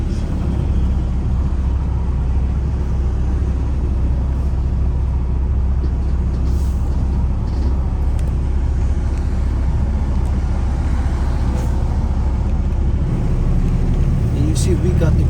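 A jet fuel tanker truck creeps slowly onto weighing scales at a crawl of a couple of miles an hour, its steady low engine rumble loud and continuous throughout, with someone talking over it.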